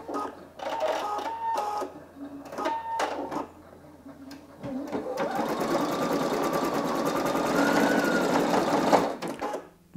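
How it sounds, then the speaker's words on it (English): A Singer EM9305 embroidery sewing machine sews a few stitches in short mechanical bursts, then runs a longer, steady stretch of rapid whirring stitching at close range before stopping. "it did a few stitches and then trimmed the thread after it had started sewing"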